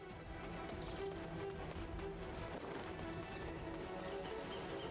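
Horse hooves clopping in the online game Black Desert, a continuous muffled trot running steadily under dense game ambience and tonal music for the whole stretch.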